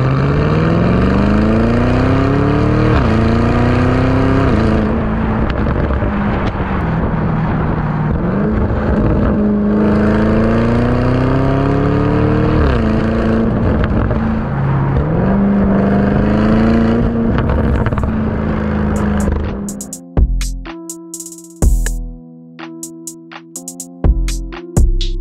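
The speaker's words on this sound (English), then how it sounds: "if you can find one with the Akrapovic exhaust, you're going to be able to enjoy these sounds" A powerful Lamborghini Urus SUV engine revs repeatedly through a loud Akrapovic exhaust, pitch climbing and dropping in long pulls, ending with sharp crackling bursts and pops.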